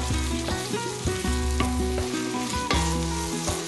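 Onion base sizzles and stews in a pot while a spoon stirs and scrapes rhythmically, close up, with no talking.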